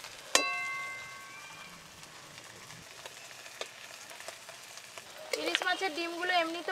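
Hilsa fish roe frying in hot oil makes a soft, steady sizzle throughout, with a bright metallic clink near the start and louder, busier ringing tones building toward the end.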